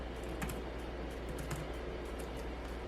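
Rapid clicking of password keys on a computer keyboard, close and steady, with a few sharper keystrokes standing out over a low room hum.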